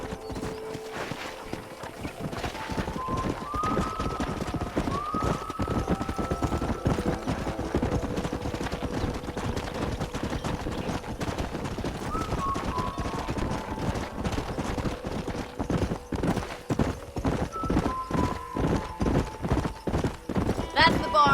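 Horse hooves clip-clop in a steady walking rhythm throughout a Western scene in the video game Red Dead Redemption, with an occasional whinny and talk over the top.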